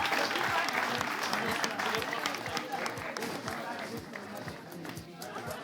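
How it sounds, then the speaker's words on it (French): Audience applause at a live entertainment event's grand finale, steady and fairly loud for the whole stretch, with a host's voice talking over the clapping. "Applaudissez-le, il n'a qu'à apporter."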